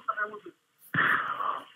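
Heavy, rasping breathing comes loud and close over a phone call, a steady noisy rush that fills the second half after a brief pause, with a short stretch of voice at the start.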